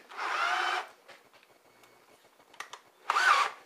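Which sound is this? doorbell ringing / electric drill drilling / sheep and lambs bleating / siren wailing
electric drill drilling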